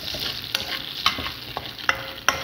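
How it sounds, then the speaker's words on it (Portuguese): Garlic frying in oil in a pan, a continuous crackling sizzle broken by several sharp scraping strokes of a spoon stirring, close and fairly loud. "Deixar o alho dourar mais, gente."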